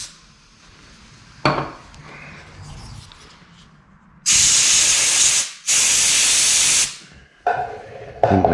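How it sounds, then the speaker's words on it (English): Two long, loud hissing blasts of compressed air blown through a Honda ATC 250SX carburetor during cleaning, separated by a short pause, with softer clinks and handling noises before and after. "blow it out with air just to make sure it's nice and clean, spotless"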